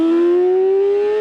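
A Yamaha R6 sport motorcycle engine screams loud and close at high revs near 16,000 rpm, giving one sustained, rising, siren-like whine that fills the short moment.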